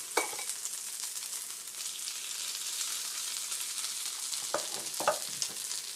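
Cheesesteak meat sizzling on a griddle, a steady close frying hiss with a few scraping clicks from stirring, no voices.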